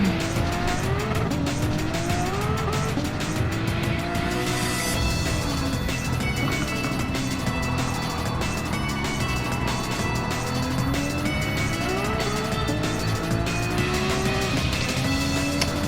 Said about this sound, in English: Ice is all out of control and gets into Hansen again, and there's a big punt.